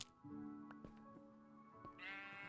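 A sheep in a block-building video game bleats in a drawn-out, wavering cry that runs into a second, higher bleat, faint and alone without any talking.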